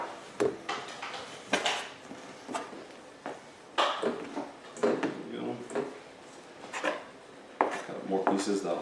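Chunks of biga pizza dough dropped and pressed into a bowl, a series of soft irregular thuds and clinks against the bowl, close and fairly quiet, with a few faint bumps between.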